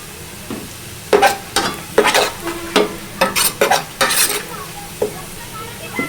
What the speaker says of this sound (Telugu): మూత పెట్టుకోవాలండి మీద తీసి కలుపుకోవాలండి